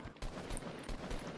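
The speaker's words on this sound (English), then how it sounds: "Some nearby gunshots get our attention" Bursts of gunfire in the video game Fortnite, several short volleys in quick succession, moderately loud and a little distant-sounding, with no talk.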